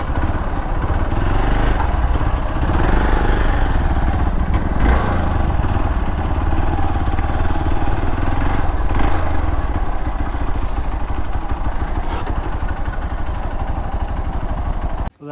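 A motorcycle engine runs at a steady rumble near a crowded temple site, loud and continuous with some clattering, until it cuts abruptly at the very end.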